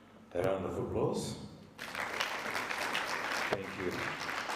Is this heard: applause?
yes